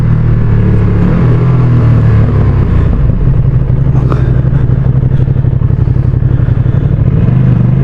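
A Ducati Streetfighter V2 motorcycle engine drones loud and steady at close range while riding, with rising revs and a throaty rumble, plus a little mechanical clatter and wind.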